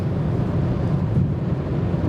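Audi S5 Coupé cabin at over 200 km/h, a steady muted low roar of engine, tyre and wind noise, moderately quiet and unbroken.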